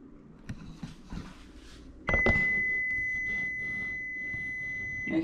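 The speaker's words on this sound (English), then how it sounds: "Can hear the timer going off." A kitchen timer goes off partway through cooking a one-pot baked penne, giving a steady, high electronic tone that holds loudly to the end over faint kitchen noise.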